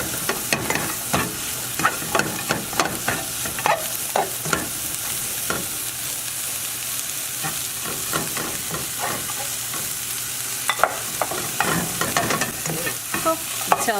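Mushroom and onion cooking in butter in a pan for a spinach and mushroom omelette, an even close sizzle punctuated by repeated clinking spatula strokes against the pan, steady and fairly loud, with no speech.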